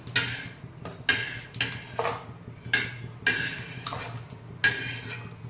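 Roasted coconut scraped from a pan into a plate, a series of sharp metallic clinks and scrapes of a utensil against the cookware, each followed by a short ring, repeating about every second.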